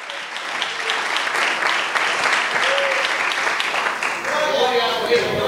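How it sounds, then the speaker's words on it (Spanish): A church congregation applauds loudly and steadily, a dense wash of many hands clapping together that carries on throughout, with voices mixed in near the end. "Dele fuerte el aplauso al Señor."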